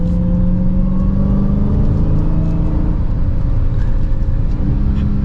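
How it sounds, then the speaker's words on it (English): A 2022 Dodge Charger SRT Hellcat Widebody drones steadily while driving, with a whining supercharger tone rising and falling over a constant low mechanical hum, close and fairly loud. "You hear a lot more of the engine and the supercharger than you do that exhaust."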